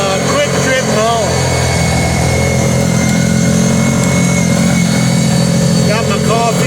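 An ATV engine drones steadily at moderate revs while riding a plowed bike path in Alaskan winter cold, loud and continuous, with a voice speaking over it at the start and end.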